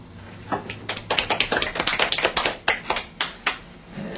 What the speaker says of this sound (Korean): 강의가 현천해가지고 박수가 시원찮아요